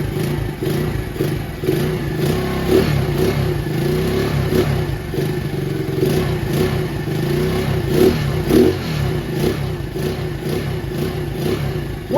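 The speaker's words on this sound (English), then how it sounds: "One thing you want to refrain from is revving this high." A Honda Dax clone 125cc motorcycle engine revs high in a steady, continuous drone with rhythmic pulsing surges, loud and close, with no talking over it.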